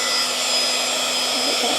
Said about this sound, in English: Okay, I'm going to take my heat gun.